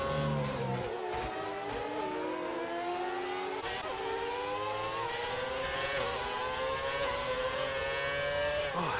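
A Mercedes Formula 1 engine revs in a racing video game, a loud, high-pitched whine climbing steadily through the gears with no break.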